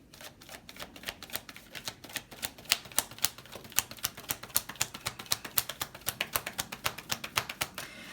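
Tarot cards being shuffled and handled for a love reading: a rapid, steady run of crisp flicking clicks, close and fairly loud, going on for several seconds with no talk.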